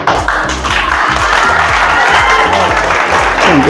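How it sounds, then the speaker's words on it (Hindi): Loud, close applause at a prize distribution ceremony, a crowd clapping vigorously and continuously with a rapid rhythmic patter and some crowd murmur. "इनके लिए भी तालियां"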